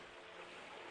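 Waves crash in a steady, dense wash of surf in Persona 4 Golden, broad and continuous with no break across the short stretch, loud and close with a windy, roaring texture.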